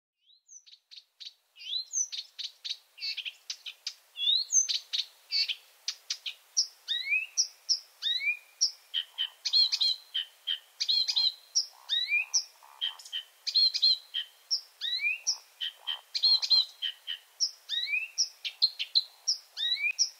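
A Blyth's reed warbler sings a long, varied stream of clear chirps, whistles and repeated phrases, fairly close and steady against a quiet night background.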